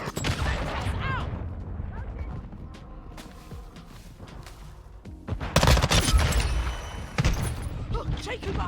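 Grenades and gunfire in the video game Modern Warfare 2, with bursts of shots, creaking mechanical clatter and a loud explosive blast partway through, mixed with game voice chatter.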